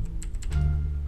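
Quick clatter of typing on a computer keyboard, a handful of close, light key taps in rapid succession over a steady background hum.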